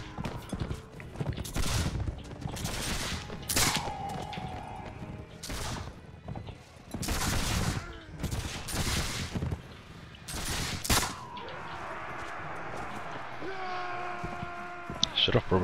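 Rifle volleys ring out in the video game Mount & Blade With Fire & Sword, several sharp broadband bursts spaced irregularly over the battle, with a voice talking in between.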